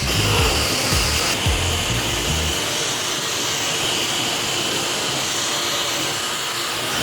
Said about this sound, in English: I think this hair dryer will be quite useful.